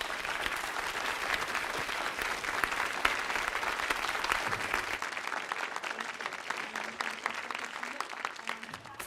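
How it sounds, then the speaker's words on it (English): A studio audience at a 2024 mayoral candidate forum claps in a dense, sustained round of applause that stays fairly even and then thins slightly toward the end, with no voices over it. "please give yourselves and our candidates a warm round of applause."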